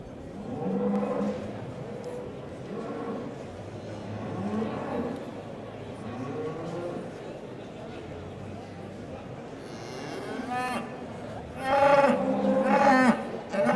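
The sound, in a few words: beef shorthorn heifer mooing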